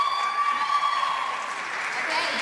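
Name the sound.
audience applauding a slam poem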